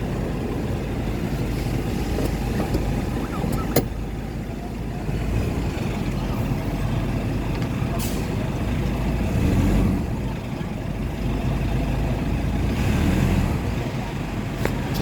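Nissan Urvan Premium van engine running from inside the cab, a steady low hum with slight swells in revs over about fifteen seconds, with the air conditioning on.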